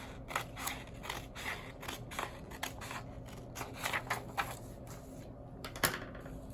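Scissors cutting a paper pattern strip for weaving, a quick series of soft, crisp snips at a fairly regular pace, close but quiet.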